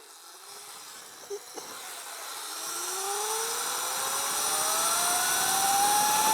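Electric dirt bike with a KO F-Spec motor restarting, a couple of faint clicks, then a rising electric whine that climbs steadily in pitch and loudness as it rides off under wind noise.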